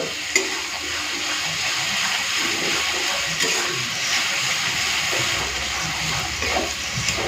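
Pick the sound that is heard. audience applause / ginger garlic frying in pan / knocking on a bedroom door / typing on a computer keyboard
ginger garlic frying in pan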